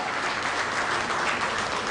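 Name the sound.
applause for a speaker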